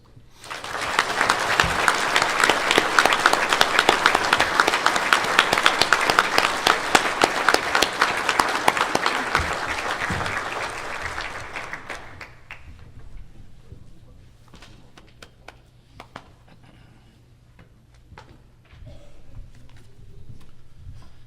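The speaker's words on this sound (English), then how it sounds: "I'd please join me in applause with introducing the newest member of the USSSA Hall of Fame, Hank Garris" A banquet audience at a USSSA Hall of Fame national convention applauds a new inductee. Loud, dense clapping fills about twelve seconds, then thins to scattered claps and quiet room noise.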